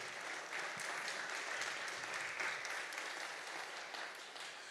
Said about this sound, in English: So one more time, a round of applause for development